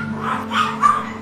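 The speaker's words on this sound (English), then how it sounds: "200 dogs in this small room." Many dogs crowd a small, packed puppy-mill room and bark and yip together in a dense, overlapping din, with a couple of sharper barks rising above the steady chorus.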